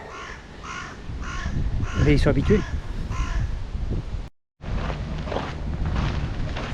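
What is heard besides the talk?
black birds cawing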